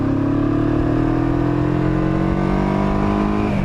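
Kawasaki Vulcan 500 parallel-twin motorcycle revving hard and accelerating, a loud, close engine note whose pitch climbs steadily over a few seconds and then dips at the end.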